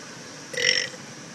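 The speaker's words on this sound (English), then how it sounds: "Show us how you burp." A single short, throaty burp from a child, close and fairly loud, rising out of a quiet background and fading within a second.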